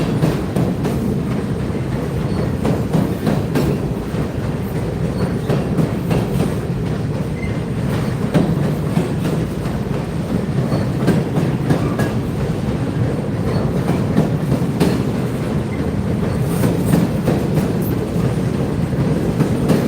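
A long, empty northbound grain freight train rolls past nearby at 23rd Street, a loud, continuous rumble with rhythmic clickety-clack of wheels over rail joints throughout.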